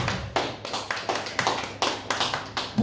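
Church congregation applauding in a series of sharp, uneven bursts of hand claps that rise and fall several times within a few seconds, fairly close, with no talk.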